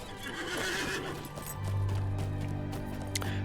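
A horse in the LOTRO online game whinnies loudly while its hooves clip-clop steadily, the neigh rising over the rhythmic footfalls in a short burst.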